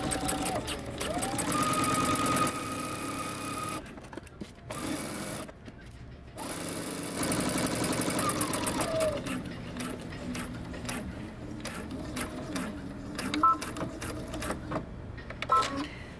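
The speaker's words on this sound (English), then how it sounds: "Okay, we're gonna backstitch at the beginning." A sewing machine hums through a coat hem, backstitching in short stop-and-start bursts with brief pauses, the motor pitch sliding as it slows and restarts, close and clear.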